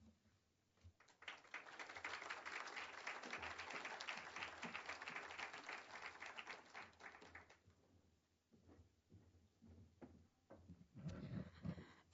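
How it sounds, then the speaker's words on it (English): Audience applause at a Salute to Women 2008 college event, steady clapping for several seconds that thins into a few scattered claps and then a brief final swell. "how about another round of our applause for our wonderful women?"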